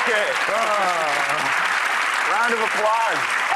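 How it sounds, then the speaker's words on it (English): A dense, sustained round of studio audience applause fills the space while people talk and exclaim loudly over the clapping. "Round of applause."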